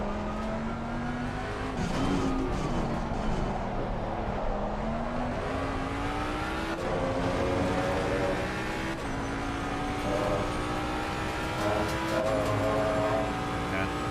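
A Ford Mustang GT3 race car drives at speed with a steady engine drone that climbs in pitch through the gears, tyres working hard and occasionally squealing, heard from on board throughout.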